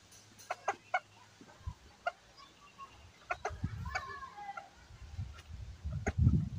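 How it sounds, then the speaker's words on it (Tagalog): Hens brooding in a breeder cage give soft, scattered clucks and short calls at close range, with rustling and low thumps building toward the end. "So, may 2 hen tayo na naglilimlim."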